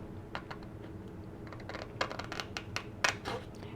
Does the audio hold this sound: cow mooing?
no